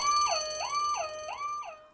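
An electronic alarm with a rapid rising-and-falling warble repeats about four times, loud and alone with no other sounds.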